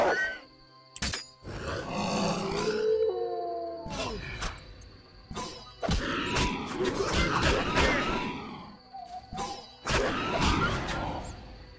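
A dog in The Witcher howls and whines amid loud crashes, thuds and game noise, the cries rising and falling over about twelve seconds close up.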